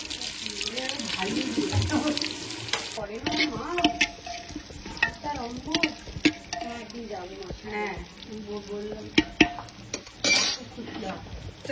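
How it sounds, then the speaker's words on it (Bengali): Chopped onions frying in a pan with dried red chillies and a large cardamom, sizzling and stirred with scraping strokes over the hiss, with a voice speaking now and then on top. "এবার দিয়ে দিলাম এর মধ্যে পেঁয়াজের কুচি।"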